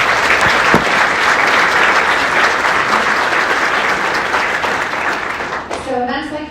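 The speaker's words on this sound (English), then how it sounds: "So give yourselves a round of applause." A large crowd at a corporate awards event breaks into loud, sustained applause. It fades slightly before a speaker's voice returns at the end.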